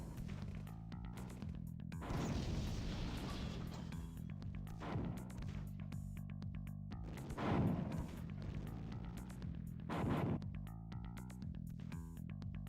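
A heroic-rank unit firing in the real-time strategy game Command & Conquer: Tiberian Dawn, a series of punchy crashing shots and booms in rapid bursts over a steady droning game soundtrack.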